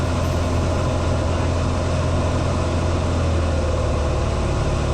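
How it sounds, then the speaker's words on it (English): Light aircraft engine during touch-and-go landings, throttled down as propeller speed increases, a constant loud droning hum close by, with no talk. "That change in engine noise is me reducing the throttle and increasing propeller speed."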